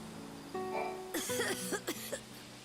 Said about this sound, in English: I've been laid low with this cough.